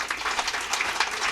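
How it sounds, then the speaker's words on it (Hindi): A short burst of applause from the audience at a women's day felicitation and prize ceremony, a dense, fairly loud clatter of many hands with no talk on top. "आप आपके लिए एक ताली बजा लीजिए।"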